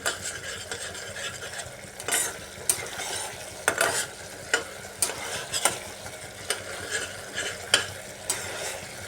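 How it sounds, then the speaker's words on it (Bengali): Ash gourd curry with cashews stirred and fried in a pan, continuous sizzling cut by repeated sharp scraping strokes of a spoon against the pan at an irregular rhythm, close and clear, no talking. "এভাবে বারবার নাড়িয়ে কষাতে হবে"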